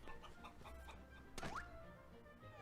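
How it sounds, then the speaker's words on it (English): A chicken in the Visions of Mana video game clucks once, a quick, sharp squawk over a soft background of game music and ambience. "Oh, look, guys, I got a chicken!"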